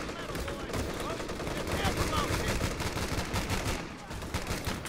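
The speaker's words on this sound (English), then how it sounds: "I got a machine gun bunker over here as well." A machine gun bunker in Company of Heroes 3 rattles off dense sustained bursts amid a battle din of overlapping gunfire, with a voice speaking over it.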